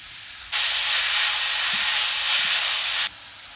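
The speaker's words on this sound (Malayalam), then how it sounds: "വറ്റൽമുളക് കൂടി ചേർത്തിട്ടാണ് വഴറ്റുന്നത്" Dried red chillies sizzle in a hot pan, a loud, even hiss that starts abruptly, holds for about two and a half seconds with faint knocks underneath, then cuts off.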